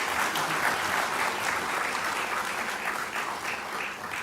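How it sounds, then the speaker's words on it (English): Sustained applause from an audience, a dense wash of clapping that stays steady and loud throughout. "Ladies and gentlemen, another round of applause for Dance in Africa."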